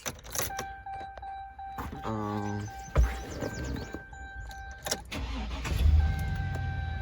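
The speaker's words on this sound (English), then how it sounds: "I'm gonna start up the truck now" A 2003 GMC Sierra 1500 pickup with 282,000 miles starts up close by: a few clicks and chimes, a brief rhythmic crank of the starter, then the engine catches and settles into a steady idle.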